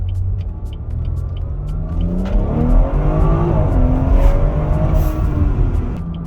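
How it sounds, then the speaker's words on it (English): A newer BMW driven on the road, its exhaust rumbling loud and close as the engine revs and climbs, with a few faint pops and crackles on the overrun and no voices. "I don't have burbles on, it's just whatever the minimal amount is, but you'll still get some"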